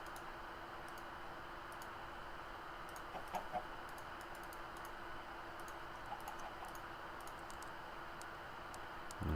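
Chicken in a Minecraft-style crafting video game, soft scattered clucks and clicks over a steady low hum, faint and sparse with a couple of slightly louder moments.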